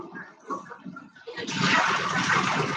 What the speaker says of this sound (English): Fill up your coffee pot.